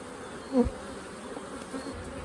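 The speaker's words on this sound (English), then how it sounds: "the bees are bringing in a good amount of pollen today." Honey bees hum steadily at close range at the hive, a low continuous drone with one louder buzz as a bee passes near.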